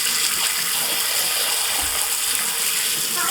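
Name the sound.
water spraying onto rechargeable LED work light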